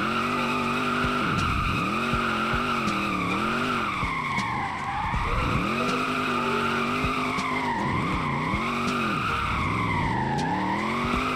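A 1000hp Hellcat drifts in a video game, tires squealing continuously with wavering pitch over a steady engine roar, loud and close throughout with no talk.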